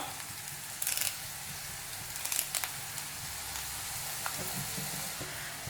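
Curry leaves hit hot oil in a pan of green peas and set off a steady, close sizzle, with a few brief sharper crackles and stirring scrapes over the continuous frying hiss.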